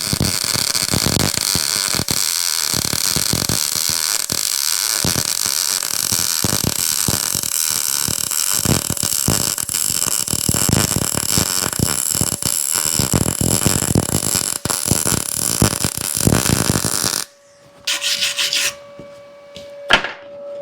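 An Arc Captain MIG 200 welder runs a bead on 3/16-inch steel with a loud, steady crackling sizzle for about seventeen seconds. It then stops abruptly, leaving a few fainter clicks and a thin tonal hum.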